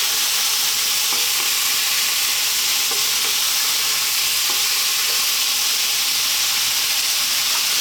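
Chicken stir-frying with oyster sauce and soy sauce in a hot pan gives a loud, constant sizzle. Faint scrapes and taps of stirring sound now and then.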